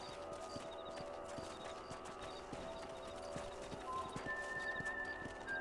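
Horse hooves clip-clopping in the video game Red Dead Redemption, a steady rhythmic trot with occasional whinnies, fairly quiet and backed by faint game sounds and music tones.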